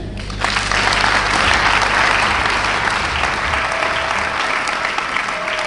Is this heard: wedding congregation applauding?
yes